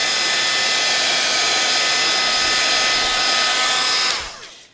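Heat gun blowing hot air from underneath onto embossing powder, a steady loud whirring hiss held for about four seconds before switching off and winding down.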